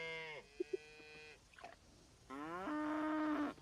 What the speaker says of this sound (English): Did the cows get quieter?